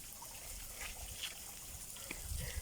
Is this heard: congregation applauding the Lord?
no